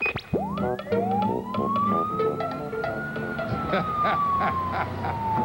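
A wailing police siren sweeps up and holds loud and close, with a second rising tone and background street noise throughout.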